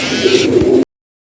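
Low, soft cooing of racing pigeons close by, a few repeated rolling coos over faint background noise, cutting off abruptly into silence.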